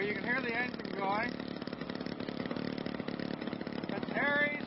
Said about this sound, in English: You can hear the engine going.